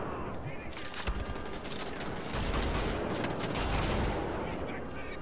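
Dense, continuous gunfire from the video game Wolfenstein: The Old Blood, rapid overlapping shots and bursts filling the whole stretch, loud and close with a heavy low rumble, no talk over it.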